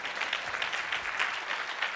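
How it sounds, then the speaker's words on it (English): An audience at a talk breaks into clapping, a brief, busy burst of many hands at moderate volume with a slightly pulsing texture and no voices over it. "this is where you should clap"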